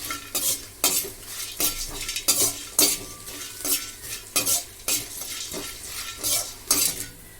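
Bay leaves and whole spices dry-roasted in a pan for homemade chicken biryani, stirred with a metal spoon in repeated scraping, rattling strokes, close and steady over a faint background hiss.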